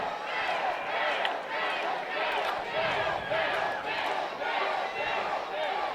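Loud wrestling arena crowd at an indie pro-wrestling match, chanting in a steady rhythmic pulse that fills the space, with a commentator's voice talking over it.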